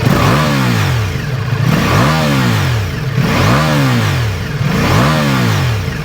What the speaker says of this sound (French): Quand je monte dans les tours,